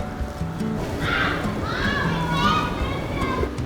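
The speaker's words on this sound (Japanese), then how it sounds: "なんか上から子供の声が聞こえるなと思ったらやっぱ公園でした。" Children's voices from a park in Nagasaki drift down from above, a busy murmur of kids playing under steady outdoor ambience, with nearby talk.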